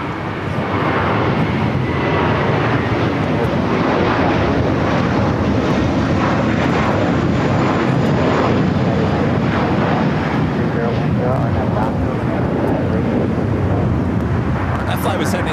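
An airliner bound for JFK flies past at LAX, producing a loud, continuous rushing jet roar with some wind buffeting, while people talk through it.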